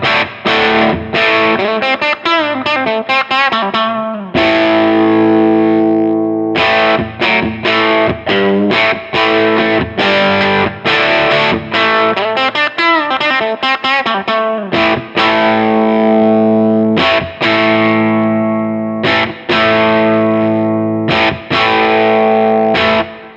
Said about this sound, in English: In the jazz setting, it's going to dial the gain back a bit and round out those lows.